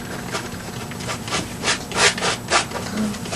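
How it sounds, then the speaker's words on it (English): Dry, rasping scrapes of a painting knife dragged across canvas during oil painting, several close strokes in an uneven rhythm, the loudest near the middle. "It sounds pretty dry. Yeah, that's the kind of the texture of the canvas against this sharp edge."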